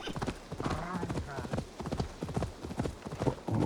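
Quick clip-clop of horse hooves in the video game Assassin's Creed Valhalla, rhythmic and close, with a person talking over it.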